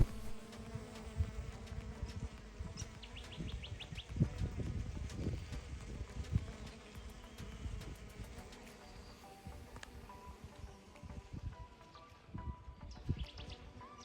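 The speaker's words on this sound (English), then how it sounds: "it was really good to see so many bees in the garden" Bees buzz steadily close by and farther off in a garden, a dense humming drone with occasional louder passes, no talking.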